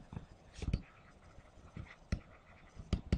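Someone quietly writes out an equation for a word problem, giving short, scattered scratchy strokes with small bursts of pen contact between soft pauses. No talking.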